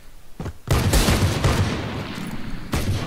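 Rapid bursts of gunfire from the video game Valorant crack out loud and close, a dense fusillade of repeated shots after a couple of earlier single reports, with little talk over it.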